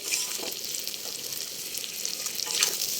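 Eggs frying in a pan of hot oil, a steady loud crackling sizzle that runs throughout, with brief swells of spattering near the start and end.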